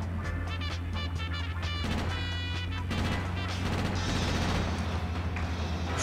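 Gunfire from GTA: Chinatown Wars, a dense burst of shots and crashing impacts over steady game music and engine noise, loud and continuous throughout.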